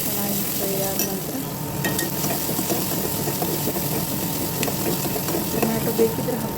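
Onions and one or two dried red chillies fry in a pan with a steady, dense sizzle and occasional stirring scrapes, close and continuous throughout.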